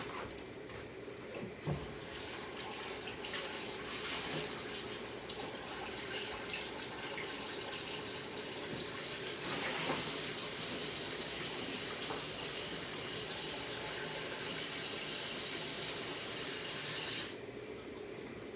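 Hot water runs steadily into a soup pot of vegetable soup with potatoes for most of the clip, a continuous rushing pour that cuts off abruptly near the end.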